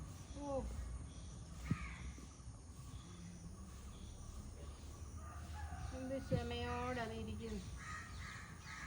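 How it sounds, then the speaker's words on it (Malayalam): A crow caught in a passion fruit vine net caws repeatedly at middle distance over a faint outdoor background, with soft voices murmuring between the calls. "പാഷൻ ഫ്രൂട്ടിൻ്റെ വലയിൽ കുടുങ്ങി കിടക്കുന്ന ഒരു കാക്കയാണ് കേട്ടോ കണ്ടത്"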